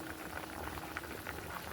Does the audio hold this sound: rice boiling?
yes